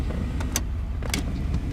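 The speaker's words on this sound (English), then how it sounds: "So you can hear all the motors whirring" Power seat motors in a 1991 Chevrolet Caprice whir steadily inside the car, a low continuous motor drone with a couple of brief higher clicks or squeaks as the seat moves, no talking.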